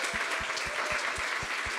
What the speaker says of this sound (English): I reckon there's wild applause here for Dee too.